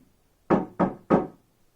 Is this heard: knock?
yes